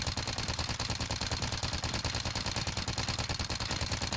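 Rapid automatic gunfire from a weapon in Warzone, a dense, steady stream of evenly spaced shots rattling continuously throughout without pause.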